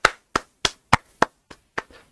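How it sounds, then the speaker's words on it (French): Hands clapping slowly and alone, seven or eight sharp, close claps in an even rhythm with no voices around them. "J'applaudis."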